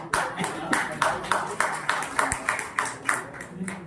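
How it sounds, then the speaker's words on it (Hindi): At a Swami Vivekananda birth anniversary event, an audience claps in a distinct rhythmic pattern, roughly twelve sharp unison beats at a steady pace, fairly close, with faint voices in the background. "चाहता हूँ कि आप सारे लोग तालियों के साथ साथ"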